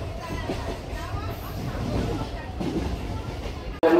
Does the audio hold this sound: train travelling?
yes